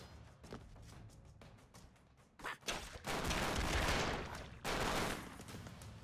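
An explosion goes off in the video game Ependabros after a run of rapid light pops, then a dense, loud roaring blast sustains for a couple of seconds, fades slightly and swells again.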